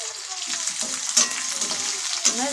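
Onions frying for onion chutney are stirred in a pan: a steady, close sizzle with spatula scrapes, and sharper scraping accents about a second apart near the end.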